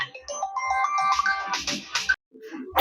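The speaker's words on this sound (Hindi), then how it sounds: "कहां से फोन आ गया हो?" A phone ringtone plays during a Class 10 maths lesson on real numbers, a bright melodic tune repeating loudly for about two seconds before cutting off.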